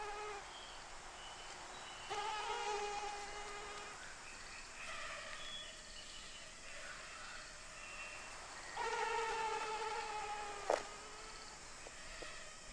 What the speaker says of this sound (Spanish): el lagarto está plagado de mosquitos